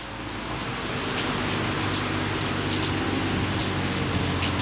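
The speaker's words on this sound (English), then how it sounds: "But yeah, it is raining." Steady, heavy rain pours onto surfaces in a dense, continuous hiss that swells slightly and stays loud throughout, with no voices.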